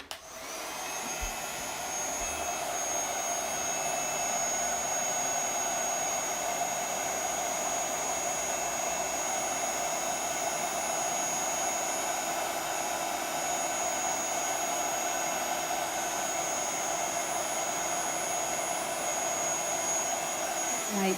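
Hot-air heat tool blowing steadily on embossing powder in a craft session, a continuous loud whooshing roar with a high whine that runs unbroken for about twenty seconds, alone without voices.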